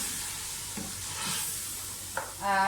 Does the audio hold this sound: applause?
no